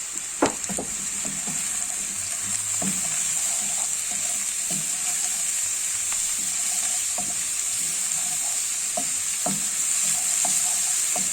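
Mushrooms fry in a pan, turning golden, with a steady close sizzle throughout and intermittent scrapes and taps as they are stirred.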